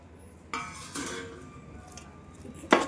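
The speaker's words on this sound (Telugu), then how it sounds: "బౌల్ తీసేసుకొని చికెన్ వేస్తున్నాను." Raw chicken pieces for biryani dropped into a bowl, with a few soft clinks and knocks of a metal bowl and utensil, the last knock loudest, no voices.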